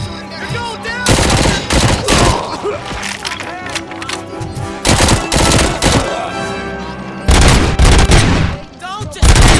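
Loud, dense gunfire from the Robocop Rogue City video game, with heavy bursts and rapid volleys coming in waves and a short lull between them, mixed with game voices.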